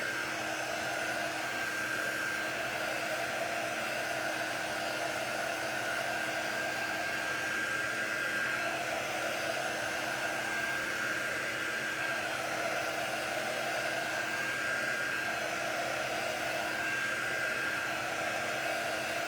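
A hair dryer blows steadily over a freshly painted Starry Night-style art piece, giving a constant, close whirring hiss with a steady motor hum that never changes and no talking.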